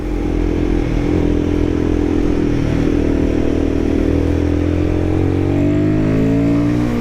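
A Royal Enfield Guerrilla 450 motorcycle pulls hard on mountain twisties, its single engine droning loudly and steadily close to the rider as the pitch climbs through acceleration, with wind rush throughout.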